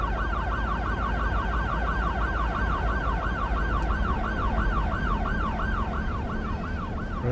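Several overlapping ambulance sirens in a city-building game wail in rapid, layered rise-and-fall sweeps, loud and unbroken above a dense low rumble of simulated city traffic.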